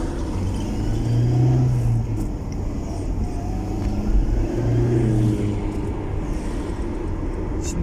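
A car engine idles in neutral with a steady low rumble and a couple of gentle swells, close by and continuous throughout, with no voices over it.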